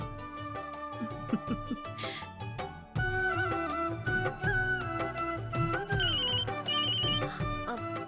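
A phone rings with a melodic ringtone, a repeating electronic tune that plays loud and alone for several seconds.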